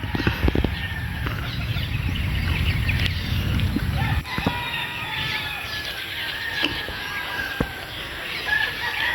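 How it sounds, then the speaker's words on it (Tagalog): Gilmore stags crossed with Boston roundhead gamefowl crow repeatedly, with several overlapping drawn-out calls over a constant farmyard background of clucking and rustling. "talagang napakaganda ng mga stags na to. Yung mga Gilmore to na nakakross sa Boston roundhead"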